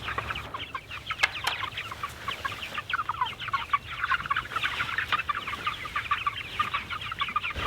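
Meat chickens on a forest farm clucking steadily in a dense chorus, a busy flock heard up close with continuous overlapping calls and no talking.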